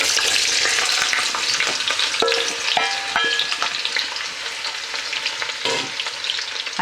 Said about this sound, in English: And then we can add the onions in.